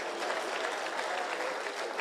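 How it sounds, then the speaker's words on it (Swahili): Applause from an audience at a community security meeting in Kenya, a steady dense patter of many hands clapping throughout, moderately loud and with no pause. "Asante sana, mpigieni makofi."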